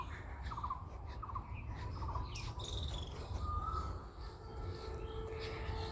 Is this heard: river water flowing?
no